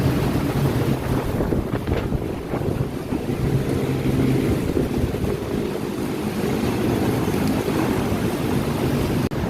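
Strong wind high up at the Metro Manila Subway construction site on Quezon Avenue produces a constant loud roar and buffeting against the microphone, with no talking.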